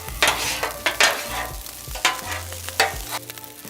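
Cajun fried rice with sausage, vegetables and soy sauce sizzles on a griddle while being stirred, a constant hiss broken by repeated sharp scraping strokes in an uneven rhythm, close and fairly loud.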